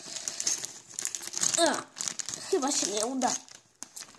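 Plastic wrapping on a Lego Star Wars magazine crinkles and rustles up close as hands try to force it open, in bursts under a person talking.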